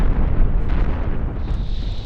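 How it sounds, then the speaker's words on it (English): A ship's reactor blows up during a fleet battle in the video game Cosmoteer. A loud, heavy, rumbling blast fills the whole moment with dense low booming. "This reactor's about to go."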